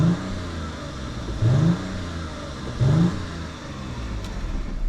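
A 2008 Audi A6 2.8 FSI Quattro V6 with 295,000 km on it revs twice in short, sharp blips over a steady idle hum, heard close and alone.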